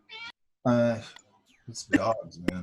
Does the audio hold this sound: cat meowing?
yes